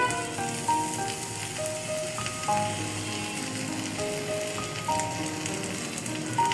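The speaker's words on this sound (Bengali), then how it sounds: "এটা কিন্তু খুবই লো মিডিয়াম আঁচে ভাজতে হবে, চুলার আঁচ বাড়ানো যাবে না।" Fish paturi wrapped in banana leaf fries in a small amount of oil over low-medium heat, giving a steady, close sizzle that continues evenly without any talking.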